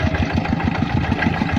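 A tractor engine chugs steadily nearby in a rapid, even pulsing rhythm, running alone without voices.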